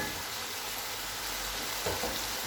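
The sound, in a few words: keema (minced meat) frying with ginger garlic paste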